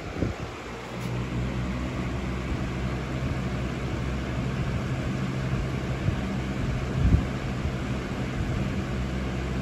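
A Lasko 3733 box fan from around 2000–01 runs steadily on medium speed, giving a continuous, even whooshing hum close by with a faint low motor drone and no talk.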